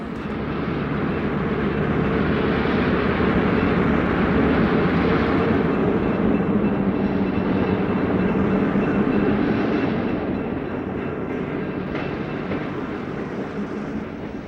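The eastbound Santa Fe Chief passenger train at Los Angeles Union Station gives a sustained low rumble and roar that swells and holds steady for several seconds, then slowly eases, with no voices.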